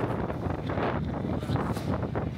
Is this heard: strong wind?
yes